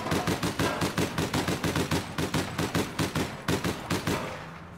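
Automatic gunfire from the video game APB: Reloaded rattles in a fast, even string of loud, close shots that fade away at the end.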